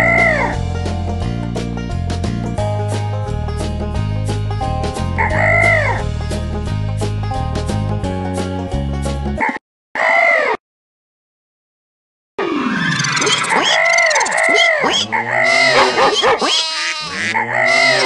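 In a kids' farm animal stacking game, a chicken clucks and a rooster crows, with a dog barking alongside, over loud looping game music that cuts out briefly before the animal calls return.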